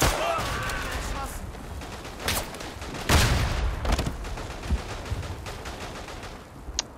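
Dense gunfire from the World War I shooter Verdun, with rapid rifle and machine-gun bursts and louder sharp cracks over a constant battle din.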